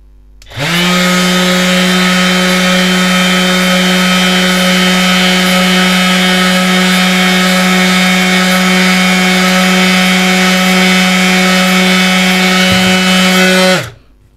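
DeWalt DCW10 18V cordless orbital sander running at top speed, a loud steady motor whine with strong tonal hum that starts abruptly, holds for about thirteen seconds, then cuts off.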